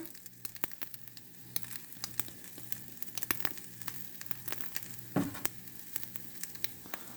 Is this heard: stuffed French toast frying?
yes